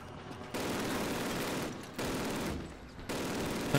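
Machine gun fire in the game Call of Duty (2003), loud sustained bursts of rapid automatic shots in three long volleys separated by brief pauses, with no talking over it.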